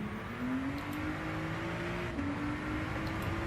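A hypercar racing at Red Bull Ring in Gran Turismo 7 holds a steady, smooth engine whine under gentle throttle, close and continuous with a slight pitch rise.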